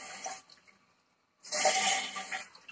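Water gushes from a tap valve for a washing machine and toilet tank in a loud burst after a quieter stretch of running and near-silence, with a fainter trickle before and after.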